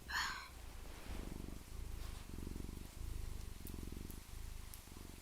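A human voice imitates a cat's purr, giving a soft, low rumble in steady rhythmic pulses, with a brief airy sound at the start and no words spoken.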